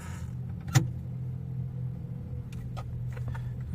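A 2010 Toyota Camry with a 2.5L engine and automatic transmission idles with a low, steady hum, then gives a single soft clunk as the transmission engages into drive, followed by continued idle rumble.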